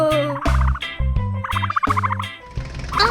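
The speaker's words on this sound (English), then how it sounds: "George is amazed at how quickly the long beaks peck away." Cartoon flamingos peck at watermelon, heard as loud, close gobbling bird calls in quick honking bursts layered over light percussive tapping.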